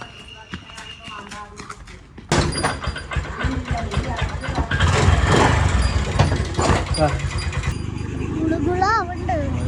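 A scooter engine starts with a sudden loud burst and then settles into a steady, buzzing idle. People talk over it throughout.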